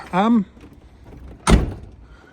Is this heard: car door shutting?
yes